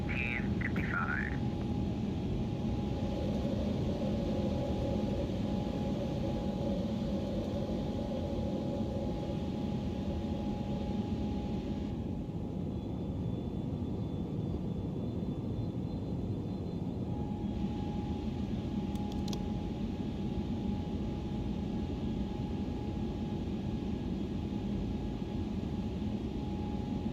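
A ToLiss A321neo airliner takes off in X-Plane 12, its jet engines holding a steady roaring hum with a faint whine on top, sustained and even throughout the long run.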